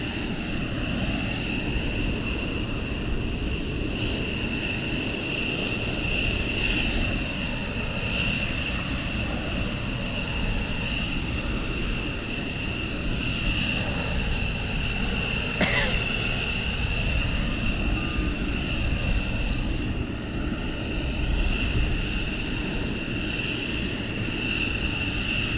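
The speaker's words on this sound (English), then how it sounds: "The Osprey is still doing some circuit work" A Bell Boeing V-22 Osprey tiltrotor flies circuits at RAF Lakenheath, its engine and rotor roar a sustained, loud drone that rises and falls slightly over the whole stretch, alone without talk.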